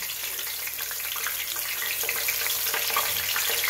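Garlic, scallion and green and yellow scotch bonnet peppers fry in hot seasoned oil, giving a steady, close hiss and crackle that runs evenly throughout with no talking.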